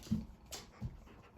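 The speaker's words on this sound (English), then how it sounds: "What are you barking at?" A dog indoors gives a couple of short, soft barks or whimpers, fairly faint and close, with quiet room noise between them.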